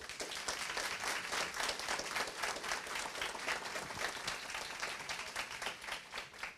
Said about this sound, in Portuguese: para os quais já solicito uma salva de palmas